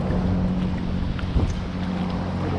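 A noisy speedboat passes close to a kayak in choppy sea near Stair Hole and Lulworth Cove, its engine a continuous low droning hum under wind buffeting and water slaps.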